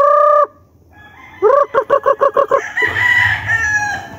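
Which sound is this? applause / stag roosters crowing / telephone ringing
stag roosters crowing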